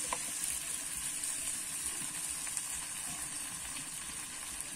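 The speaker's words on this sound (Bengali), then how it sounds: "এবার ভেজে রাখা চিকেন আলুটা দিয়ে দেবো।" Fried chicken and potato pieces sizzle and crackle in a hot pan of cooked-down spiced masala for tomato chicken, a steady close frying hiss with small pops throughout.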